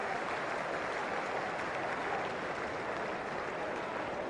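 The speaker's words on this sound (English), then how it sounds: "Standing ovation on the way out" A cricket crowd gives Stephen Waugh a standing ovation as he walks off retired hurt, a dense, sustained wash of applause from a large stadium audience, steady and loud throughout.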